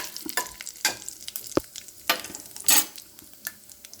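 Spices and peanuts dry-roasting in a pan for puliyogare, intermittent scraping stirs and clattering seeds over a faint sizzle, close and fairly loud in short bursts.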